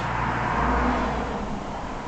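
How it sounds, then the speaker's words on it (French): Steady road noise from cars passing near an abandoned building: a continuous, even rumble and hiss with no distinct single pass, moderately loud, with no speech. "Désolé pour le bruit des voitures."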